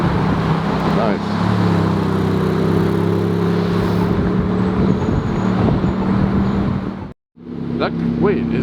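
A Ferrari GTS drives by on a busy road, engine noise rising and falling over steady traffic rumble, with people talking nearby.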